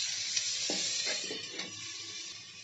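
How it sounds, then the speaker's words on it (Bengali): Potato and pumpkin pieces frying in a pan over the flame, a soft continuous sizzle with a few light stirring clicks and scrapes, close and fairly quiet, no voices. "এখন আলু আর এই কুমড়োটা ভেজে নিতে হবে খুব সুন্দর করে"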